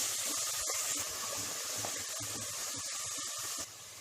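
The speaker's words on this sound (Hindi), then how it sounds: "नेक्स्ट इसमें डालिए 3 टीस्पून अदरक लहसुन का पेस्ट। इसकी कच्ची बू जाने तक इसे भी भून लें।" Ginger garlic paste sizzles with onions in a hot pan on high flame, a steady close hiss and crackle that runs throughout, then drops slightly near the end, with no speech.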